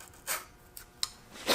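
Blue tape on a wooden dovetail is trimmed to size, giving a few short, faint rasping strokes close by at an uneven pace in a quiet room, with no talking.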